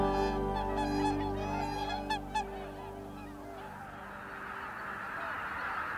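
A group of swans on Lake Miyajima in Hokkaido call together in loud, brassy honking bursts, nearby and layered, fading into quieter open-air background noise in the last seconds.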